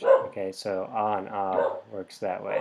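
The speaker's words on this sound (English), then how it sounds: "you can hear my dog Eeyore barking" Eeyore the dog barks and yips excitedly in the background under a person talking steadily through a Latin grammar lesson, the barks partly masked by the voice.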